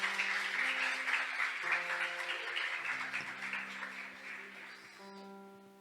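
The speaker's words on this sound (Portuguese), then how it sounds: "Aplauda o Senhor." Applause from a church congregation at a morning worship service, a broad wash of clapping running under sustained organ or keyboard chords, gradually fading as the music continues.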